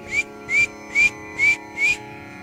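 Five short, evenly spaced whistles from a person's mouth, each a clear rising tone, imitating a warning signal given from an upper floor, heard alone in a quiet room.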